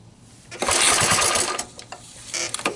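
A seized 1981 Honda ATC185S ATV engine being cranked on choke gives a burst of rough, rapid mechanical chatter lasting about a second, then sputters in a few short uneven bursts without settling into a steady run.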